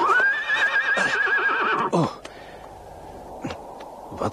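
A priest's horse gives a long, loud, wavering whinny that ends abruptly, followed by quieter rustles and a few faint knocks.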